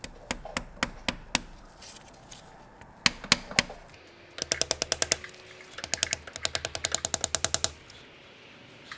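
New rear main seal being tapped into a Subaru engine: sharp metallic taps come first in a slow series, then in quick bursts of rapid, evenly spaced hits, close by and with no talk.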